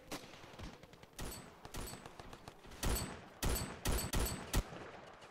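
Gunfire in the video game Ravenfield comes in sharp, loud bursts and rapid automatic volleys, spread irregularly across the moment with short gaps of quieter background between them.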